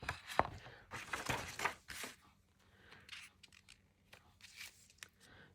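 Scissors trimming cut paper around a gold background in a cut-and-glue craft session, giving a run of crisp snips and paper rustles, fairly close, with short quiet gaps between bursts.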